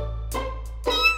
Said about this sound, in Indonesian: Ada anak kucing.